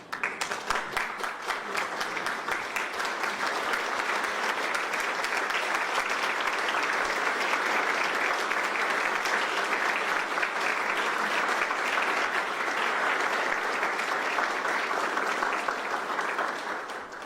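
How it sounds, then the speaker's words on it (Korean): A standing audience at a Korean armed forces major commanders' conference breaks into loud, sustained applause to welcome the minister, a dense, even wash of clapping that holds steady for the whole stretch before tapering slightly at the end. "모두 자리에서 일어나셔서 큰 박수로 맞이해 주시기 바랍니다"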